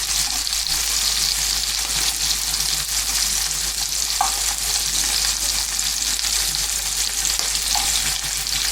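A sausage sears in a frying pan with a steady, loud broadband sizzle that holds throughout, broken by a couple of faint clinks, as part of a dish with braised endives and mustard.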